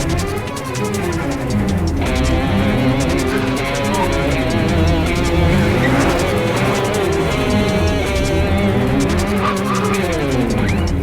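A car engine runs and pulls away, a continuous loud rumble with shifting engine tones and some tire noise over eleven seconds, close and without voices.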